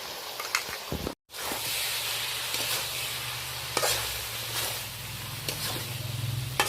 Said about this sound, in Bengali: নারকেলটা ভালো করে মিশিয়ে নিলাম